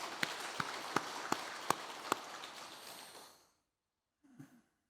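Congregational applause in a church during a Sunday worship service, a steady patter of many hands with a few sharp claps standing out, fading out after about three seconds, then a faint brief rustle.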